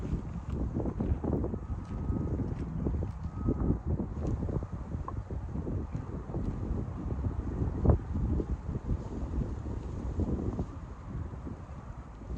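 Strong wind buffets the microphone outdoors on a fishing trip, a continuous low rumbling roar with gusty surges and a few faint knocks, and no one speaking.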